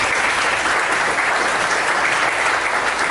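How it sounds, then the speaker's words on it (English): A standing audience at a 1 Million Cups business pitch event in Dallas applauds loudly and continuously, a dense, close wash of clapping with no break. "can you guys please stand up and give a round of applause to Gretchen?"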